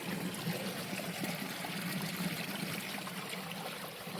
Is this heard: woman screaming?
no